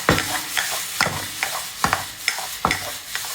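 Pineapple curry being stirred in a pan with a spoon, about eight scraping, sizzling strokes in a steady rhythm, close and fairly loud, with no talking.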